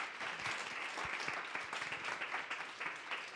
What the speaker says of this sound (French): Je pense qu'on peut applaudir nos deux présentateurs.